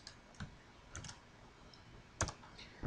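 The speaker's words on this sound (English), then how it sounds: "So you just simply type in that link" A few soft, separated clicks of keys on a computer keyboard as a website link is typed, faint and sparse against a quiet room.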